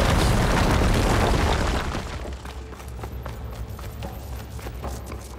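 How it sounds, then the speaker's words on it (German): A loud, roaring explosion in the video game Horizon Forbidden West fills the first two seconds, then fades into a lower rumble with scattered crackles and debris sounds. "Gleich gibt's eine Explosion."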